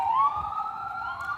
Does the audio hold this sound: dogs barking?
no